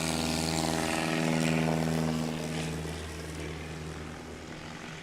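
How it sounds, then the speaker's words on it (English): STOL aircraft taking off at a National STOL Series championship in Sulphur Springs, Texas, its propeller engine droning loud and steady, then easing as it climbs away. "Good looking takeoff."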